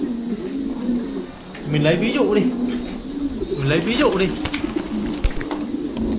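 Pigeons kept in pairs in cages on a farm coo steadily in a busy mix, with someone talking over the birds.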